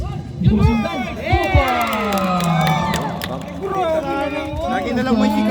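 A crowd at an elimination match shouts and cheers loudly, with whoops and yells rising in bursts over a steady roar of many voices close by.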